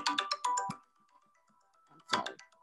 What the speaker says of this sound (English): she's probably just got her flowers, so she's calling my phone